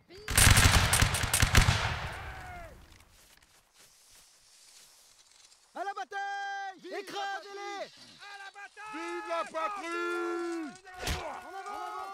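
Musket volley in the Napoleonic Wars line-battle game, a loud crashing burst of massed fire that fades, followed by voices and shouting from the players.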